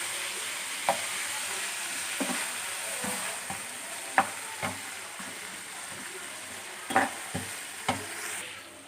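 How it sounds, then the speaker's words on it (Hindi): Spices stirred and roasting in a hot pan for homemade white sauce pasta: a soft steady sizzle under scattered scraping clicks of a spoon against the pan, close by, with no talking. "ये देखिए, सारे स्पाइसेस डालिए हैं। इसको हम अब अच्छे तरीके से भून लेते हैं।"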